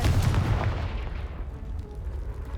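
Confringo blasting spell in the Hogwarts Legacy video game sets off a loud, close boom that rumbles heavily at first, then fades away over a couple of seconds.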